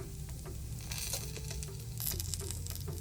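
Two dried red chillies, broken by hand, sizzle and crackle in hot oil for a coconut chutney, a steady close frying hiss with scattered pops and no talk.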